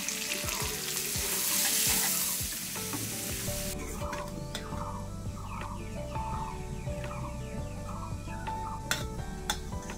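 Small-cut ash gourd pieces frying in a pan with a constant sizzle and occasional stirring scrapes, while birds call in the background.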